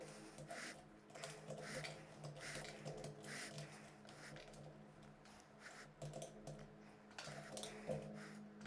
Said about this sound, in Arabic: ونفك الزراير كده مع بعض واحده واحده